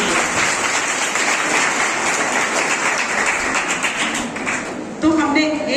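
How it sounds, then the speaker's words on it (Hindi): Steady crowd applause at an event held with the police department on self-defense training for adolescent girls, a dense rain-like patter of many hands, before a voice begins speaking at the end. "तो सर को और पुलिस स्टाफ के लिए हम तालियों से थैंक यू।"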